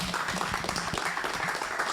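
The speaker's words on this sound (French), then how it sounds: "Et je vous demande d'applaudir Aymeric Marollo" An audience at a conference on programmatic advertising applauds a speaker being introduced, a steady dense clapping from a room full of people, moderately loud throughout.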